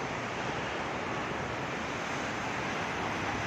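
Gentle sea waves at Sidi Bishr beach in Alexandria wash in as a constant, steady surf roar mixed with light wind, with no distinct breaks or voices.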